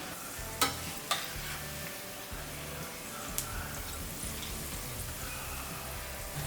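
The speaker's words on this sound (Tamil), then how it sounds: "கொஞ்சம் மிதமான சூடில் வச்சுட்டு நல்லா நின்று பொரிஞ்சு வரணும்." Cabbage pakoda deep frying in hot oil, a steady dense sizzle and crackle with a few sharper pops, heard close and alone.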